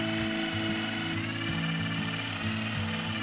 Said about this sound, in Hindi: टाइम है ड्रिल करने का ताकि हम इसको दीवार पर माउंट कर सकें।